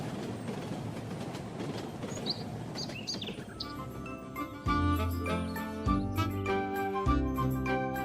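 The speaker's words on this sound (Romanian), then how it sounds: "Uite, un tren!" A cartoon train rolls past in a children's animated show, its rumbling wheels and clattering joints entering after a few seconds of lighter chiming and chirping effects, growing louder with rhythmic clacks as it passes close by.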